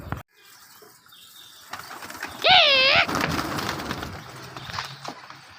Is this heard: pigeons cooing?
yes